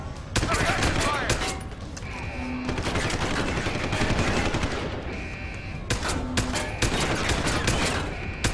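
Sustained, loud gunfire from a firefight in Deus Ex: Human Revolution, dense bursts of shots rattling almost continuously, with shouted voices cutting in over the shooting.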